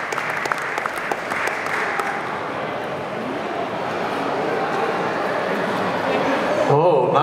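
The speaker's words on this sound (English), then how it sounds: "And a group of applause." A crowd applauds at an open day event at an S-Bahn rail depot, dense clapping mixed with crowd noise and voices, which grows a little louder toward the end.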